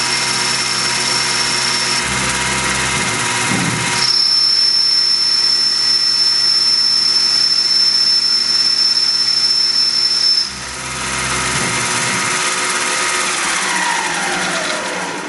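A Tormach PCNC 1100 Duality CNC lathe takes a light first-pass cut in metal at a 4 inches per minute feed. A steady machine hum carries a thin, high whine that holds for several seconds and then stops.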